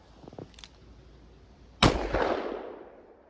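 A single sharp gunshot from a .357 Magnum revolver firing a 170 grain load, a sudden loud crack followed by a rolling outdoor echo, preceded by faint small clicks.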